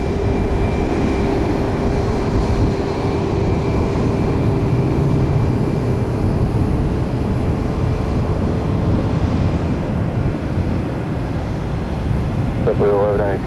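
A jet airliner taking off from a runway at Tampa airport makes a steady, broad engine roar that stays constant for the whole clip, with a brief voice heard near the end.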